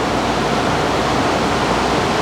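Water rushes through a hydropower dam penstock in a continuous, loud, dense roar with no breaks.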